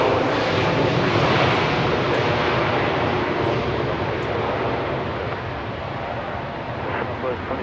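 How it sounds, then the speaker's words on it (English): A Southwest Boeing 737 Max 8 from Phoenix arrives at Dallas Love Field at night with a steady, loud jet roar that fades slightly over several seconds, mixed with wind buffeting. "We have an incoming flight over here from Phoenix, Arizona. It's a max 8."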